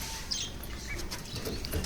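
Pigeons are released one at a time by hand from a newly built cage, giving faint, fluttering wingbeats over a quiet background, brief and soft rather than close and loud.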